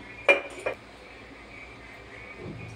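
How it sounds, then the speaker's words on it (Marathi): A metal appe pan is set down on the stove to heat, giving two quick metallic clinks close together near the start, followed by a quiet, low background hum. "आप्याचं भांडं ठेवलं इथे तापत, त्याच्यात आपण तेल टाकून घेऊया"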